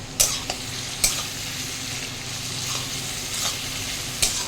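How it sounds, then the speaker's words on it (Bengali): Food frying in a pan gives a loud, steady sizzle, punctuated by sharp spatula knocks and scrapes at irregular intervals, heard close with nobody speaking. "সুন্দর ভাজাভাজি হয়ে গেছে"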